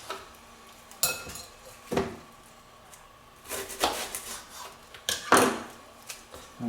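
A kitchen knife trims the ends off an onion on a cutting board in a few separate crisp chops and scraping knocks, spaced out with quiet gaps between them.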